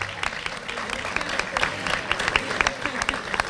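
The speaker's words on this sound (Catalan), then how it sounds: "te aplauden y todo" An audience at a neighbourhood queen proclamation in Sant Pere claps for a young boy on stage, producing steady, moderately close applause with scattered sharp claps and some crowd murmur underneath.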